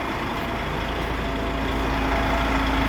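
A repaired DAF 105 truck engine idles steadily after being started, a loud, even mechanical rumble with a continuous low drone and no talking.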